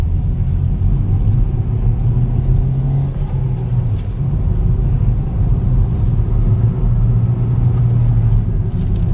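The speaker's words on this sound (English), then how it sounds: "rev this engine a bit, here it goes." A car engine, either a Honda City or a Hyundai Verna, revs close by in a steady, loud drone with a mild swell in pitch and no talking.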